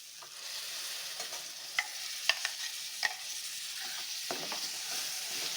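Spices being stirred in a hot pan while cooking spinach and cauliflower paratha filling, a continuous soft sizzle with scattered clicks and scrapes of a spoon against the pan, close and steady without talk.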